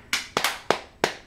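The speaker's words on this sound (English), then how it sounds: "Put your hands together." Four separate sharp hand claps, close and crisp, spaced unevenly over about a second with a quick double near the middle, with no talking.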